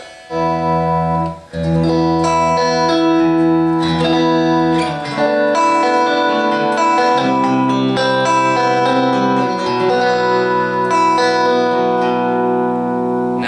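An electric guitar rings out clean through a Four Force EM-1 amplifier with no reverb, guitar tone knob at about 3, sustained chords and notes with a brief pause early on, no voices.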